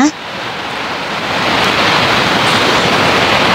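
A waterfall roars as a steady, dense rush of falling water, loud and close, building slightly and holding without pause.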